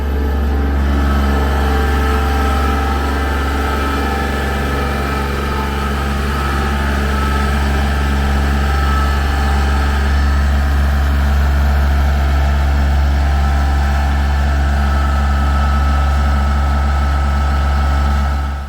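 A compact tractor's small diesel engine runs steadily nearby, a continuous low rumble with a slight uneven chug and no break.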